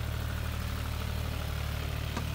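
A tractor engine runs steadily in a soft-soiled potato field while earthing up the rows, a continuous low idling drone with even vibration and no voices.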